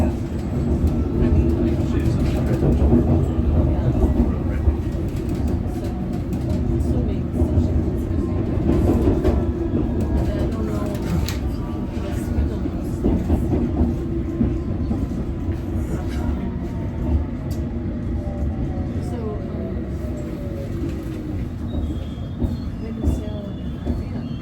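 A London Underground District line train rumbles steadily along the track, a low continuous roar with rattling and squeals throughout, loud and close as if heard from inside a carriage.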